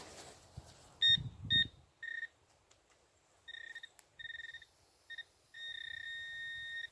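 A metal detector emits repeated electronic tones over a buried object in a house lot, short beeps then a longer sustained one, clear and close, after a brief rustle of digging.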